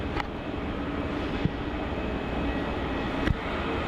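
A Qantas Boeing 737 with Nauru livery, arriving from Perth, touches down on runway 16 at Melbourne Airport, its steady broadband engine roar filling the air with a couple of faint thuds.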